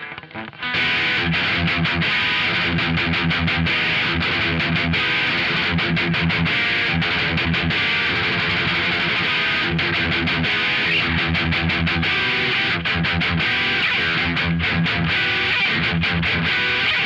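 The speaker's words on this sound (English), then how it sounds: "The pedal provides tons of gain, but also a lot of noise, especially in certain distortion boost combinations." Electric guitar driven hard through a BOSS OD-200 overdrive and distortion pedal in a heavy boost setting, a thick, saturated, noisy tone played continuously and loud for the whole stretch, with no voices.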